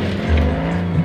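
An off-road car at Waduk Samboja gives a brief, close engine drone with a low, steady hum that shifts slightly in pitch, and no one speaks over it.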